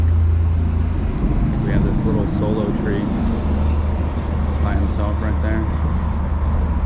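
Road traffic noise on a hiking trail, a constant low rumble of passing vehicles that runs under someone talking close to the microphone for the whole stretch.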